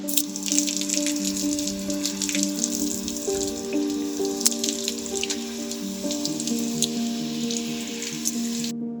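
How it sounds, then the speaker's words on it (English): Outdoor power shower running steadily, a continuous bright hiss of water spray with patter and drips, constant and close, with no one talking. "I think it's time to have a shower"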